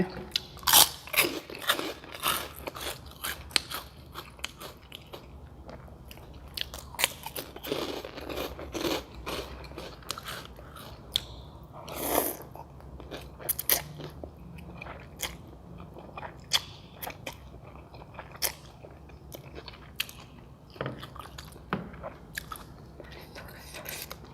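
Crunchy fried pork rinds are bitten and chewed close up alongside Thai braised pork noodle soup with yellow egg noodles and fried garlic, giving repeated sharp crackling crunches in an irregular rhythm with brief pauses.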